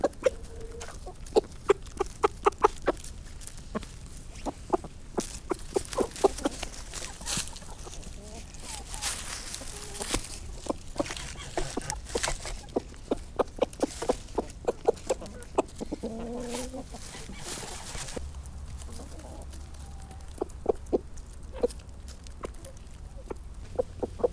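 Chickens cluck in short repeated bursts across a farmyard, with faint talking in the background and a low hum near the end.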